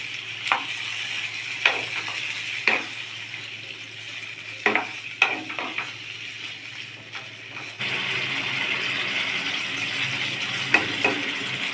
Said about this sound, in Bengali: এখন চিকেনগুলো নেড়ে চেড়ে রান্না করে নিব।